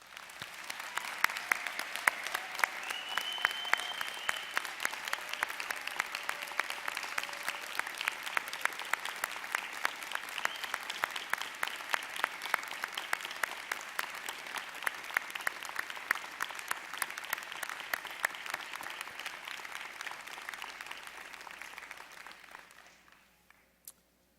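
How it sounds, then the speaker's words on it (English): An audience at a college of education commencement ceremony applauds steadily for more than twenty seconds, a dense, even patter of many hands heard somewhat distant, fading out abruptly at the end. "giving Vicki Chu, Dean Vicki Chu, an enthusiastic round of applause"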